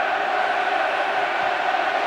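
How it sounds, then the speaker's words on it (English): A football stadium crowd cheering on the players during a Wales versus Germany friendly, a steady distant roar of massed voices with no breaks. "As the crowd try to lift the players"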